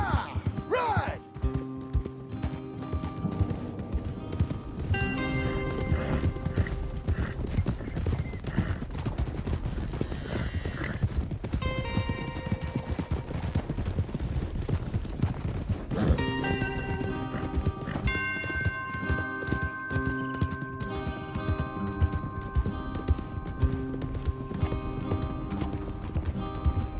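Horses gallop in a fast, steady clip-clop rhythm under music and occasional voices, with a whinny and distant shots mixed in, in the video game Red Dead Redemption 2.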